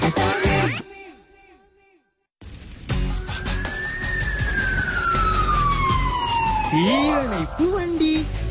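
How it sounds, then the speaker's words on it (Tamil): A loud wailing fire engine siren sweeps slowly downward over rumbling traffic noise, then warbles rapidly up and down before holding a steady tone. "தீயணைப்பு வண்டி."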